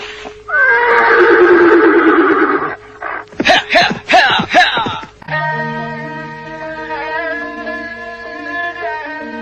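A horse in an Indonesian radio drama lets out a loud, long whinny, then a series of snorting, shuddering neighs, followed by a sustained tonal musical sting.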